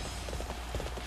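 Faint, quick hoofbeats of a galloping horse in the video game Dynasty Warriors 7, a rapid continuous clip-clop rhythm heard alone.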